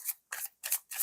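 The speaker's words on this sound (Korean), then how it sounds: "설명 카드를 2장을 또 받아볼게요." Tarot cards are drawn from a deck and laid out, four quick crisp papery snaps in an even rhythm, close and clear with no talking.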